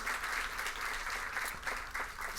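An audience at a high school quiz match between two lycées applauds a trophy presentation, a dense, steady wash of clapping that holds at an even level throughout with no voices over it.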